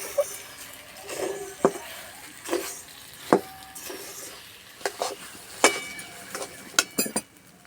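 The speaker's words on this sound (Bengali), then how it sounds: "চিনি দেওয়ার পর সবসময় এইভাবে নাড়তে হবে নাহলে তলাতে লেগে যাবে" Sabudana laddu mixture with sugar being stirred in a pan, a series of sharp spoon clinks and scrapes against the metal at an uneven pace over a soft sizzle.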